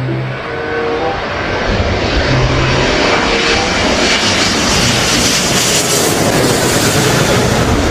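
A loud airplane engine roars steadily overhead, a broad sustained drone that swells slightly as it passes.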